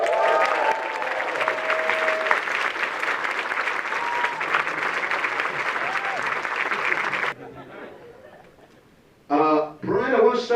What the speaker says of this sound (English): big round of applause, Bryan Fuller.